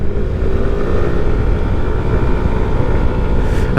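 A Kymco X-Town 125 scooter from 2021 rides along a road with small surface imperfections, its steady engine drone and road rumble loud and continuous throughout, with no talking.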